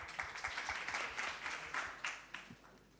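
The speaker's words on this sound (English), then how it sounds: "Please applause." Audience applause at a startup pitch event during a youth entrepreneurs' summit in Kazan, a steady spread of clapping held at moderate level for about three seconds with no voices over it.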